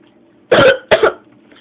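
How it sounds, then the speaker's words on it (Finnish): Two sharp coughs in quick succession, the first longer and harsher, the second a shorter double burst, close up over a quiet background hum, with no talk during the clip. "mä oon ollut vähän yskää"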